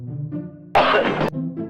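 A person coughs once, a short harsh burst that is loud and close, set between stretches of a low voiced background sound.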